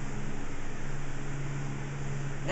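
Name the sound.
electric fan running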